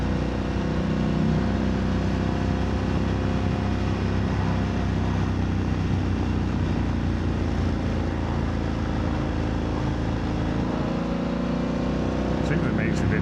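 A BMW F900R motorcycle fitted with a MIVV GP Pro titanium exhaust drones steadily at cruising speed, loud and close throughout with wind rush, a voice talking faintly underneath.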